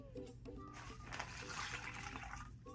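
Water pouring into a plastic bag for a science experiment, a steady splashing, gurgling flow that fills the whole span at fairly constant loudness, with no talking.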